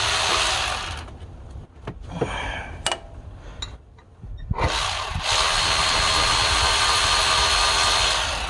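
A power tool works on a 10 mm bolt during a water pump job on a 2012 Ford F150: a loud whirring burst, a few clanks and clicks, then a long, steady, close whir.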